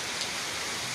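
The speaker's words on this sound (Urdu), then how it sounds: "اور یہ بارش لگ بھگ کچھ 10:30 بجے سے شروع ہے" Heavy downpour in Karachi, a dense, steady hiss of rain falling hard and close, continuous and loud with no talking.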